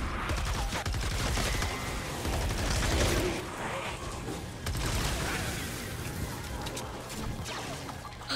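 Rapid, dense gunfire from a weapon in Fortnite Save the World rattles on steadily in bursts, moderately loud over a busy game soundscape with no talking.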